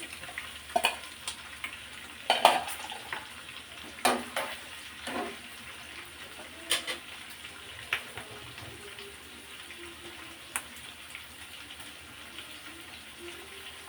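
Chicken pieces stir-fry in a hot pan for Chinese vegetable fried rice, a low hiss of frying under repeated clattering tosses and spatula scrapes, with watery splashy bursts now and then.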